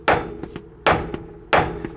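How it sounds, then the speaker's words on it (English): A ball joint stud on car front suspension is struck with a hammer three times at an even pace. Each close, loud metallic blow rings briefly and is followed by a smaller rebound tap. "Now let's hammer it out."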